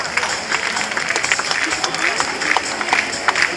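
A crowd in a bullring arena at a Beaucaire recortadores event claps, an uneven, moderately loud patter of many hands with sharper individual claps poking through, with voices in the background.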